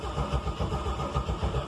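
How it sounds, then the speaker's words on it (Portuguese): A 1990 Chevrolet Caravan's six-cylinder engine, started cold, turns over in a low, rhythmic churning that sounds fairly faint and steady, like cranking settling toward a rough idle. "Mas vamos ligar a Caravan aqui"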